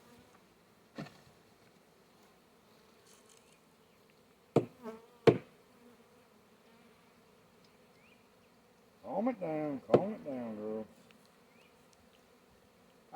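Honey bee swarm being caught and shaken into a five-frame box, heard as a faint buzzing with a few louder buzzing bursts and knocks close by; a person speaks briefly.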